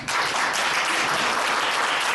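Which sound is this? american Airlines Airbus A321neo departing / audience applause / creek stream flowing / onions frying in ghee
audience applause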